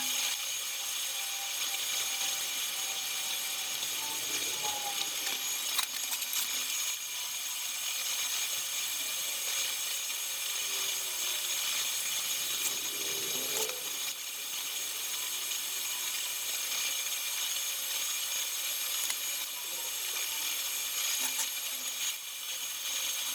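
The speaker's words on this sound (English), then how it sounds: "start with the overhead corner and wrap that fillet weld all the way around" Overhead fillet welding on stainless steel gives a steady, loud, unbroken crackling hiss that holds for the whole stretch, with no talk over it.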